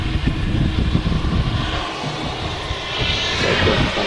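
Airbus A330-200 jet departing Manchester Airport on a windy day, a loud broad rumbling roar of engines that swells and shifts as the aircraft climbs away, with wind buffeting throughout.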